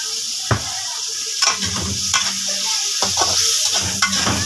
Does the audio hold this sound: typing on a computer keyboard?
no